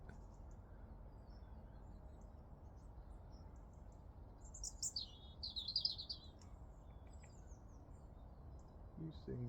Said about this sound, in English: That's a little robin redbreast, I think.